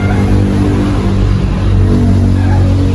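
A car engine runs loud and steady at close range, its low rumble holding throughout with a slight swell of revving, no voices.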